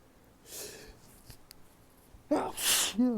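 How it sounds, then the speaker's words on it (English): A person sneezes loudly and close by in a quiet indoor space after a faint breath, followed by a short vocal exhale at the end. "I'm gonna sneeze."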